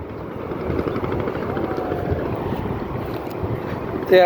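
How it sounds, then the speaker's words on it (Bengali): A fishing boat comes in from the sea at Cox's Bazar, its engine making a steady droning rumble over wind noise that runs the whole way through and swells louder right at the end. "যারা নৌকা সকালে সাগরে গেছিল তারা এখন আসতেছে"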